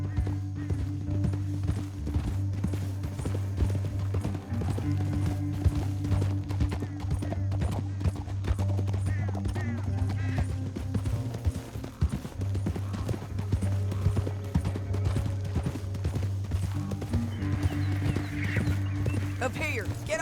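Steady hoofbeats of a galloping horse in Red Dead Redemption 2 run through the whole stretch over a low droning music bed, with a brief pause midway before the pounding resumes.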